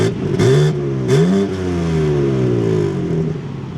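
BMW M car engine revving hard in two sharp blips, then settling into a loud, rich sustained drone that slowly falls in pitch, heard up close with no talking.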